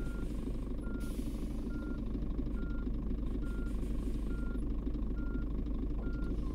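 A heavy truck backs up in a truck simulator game, its reversing alarm beeping at a steady, regular rhythm over a constant low diesel engine drone.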